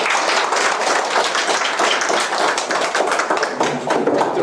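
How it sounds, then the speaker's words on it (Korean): Close, dense applause from a small lecture audience welcoming a speaker, many hands clapping briskly and evenly for the whole stretch. "큰 박수 맞습니다"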